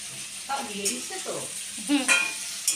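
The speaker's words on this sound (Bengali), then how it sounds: "মা বলছে তার তুই জোগাড় করে দে আমি খুন্তিটা নেড়ে দিচ্ছি" A metal spatula stirs food in a frying pan on a home stove, scraping and shuffling in a few short strokes over a soft sizzle, close and fairly quiet.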